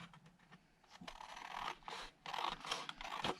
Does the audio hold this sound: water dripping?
no